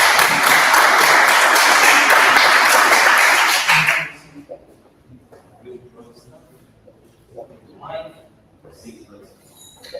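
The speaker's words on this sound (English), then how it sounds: "Round of applause." A crowd applauds loudly for about four seconds, then the clapping stops abruptly and faint scattered voices and small noises follow.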